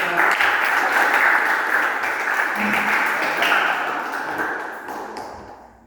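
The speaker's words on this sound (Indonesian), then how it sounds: "kita berikan aplaus untuk" An audience applauds a teacher in a classroom session, a dense burst of clapping that is loud at first and gradually fades out over several seconds.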